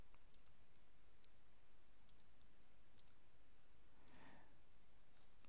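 A computer mouse clicks through items one by one, leaving a handful of faint, crisp clicks scattered irregularly over quiet room hiss.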